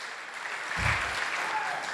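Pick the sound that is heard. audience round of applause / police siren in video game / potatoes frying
audience round of applause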